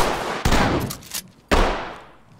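Loud gunshots in the tactical shooter Ready or Not during a downtown police raid: two sharp, close cracks about a second apart, each ringing out into a long decaying echo, with no voices.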